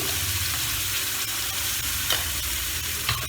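Continuous sizzle from onion paste frying in a pan for katla fish curry, with a spoon scraping and stirring now and then and a couple of sharper clinks near the end.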